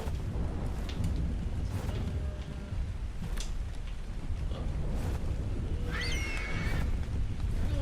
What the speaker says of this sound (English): Looks like it's starting to rain too.